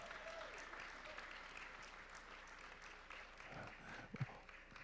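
An audience applauds a donation at a charity dinner auction, with a sustained, fairly quiet patter of many hands heard from a distance and a few sharper claps standing out near the end.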